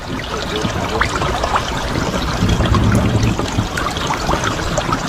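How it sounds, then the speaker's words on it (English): Water pours and trickles steadily into a sinking, still-floating car, a continuous close gurgling rush that swells briefly midway, with no voices. "So the car is still floating, it's still filling with water. In fact, I'll show you this as the water's coming in."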